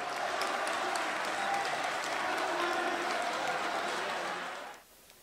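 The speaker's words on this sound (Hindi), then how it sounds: "इस कामयाब मुशायरे के लिए एक बार भरपूर तालियां" An audience at an Urdu poetry mushaira claps in a sustained burst of dense applause, steady and fairly loud for several seconds before stopping abruptly, leaving quiet room tone.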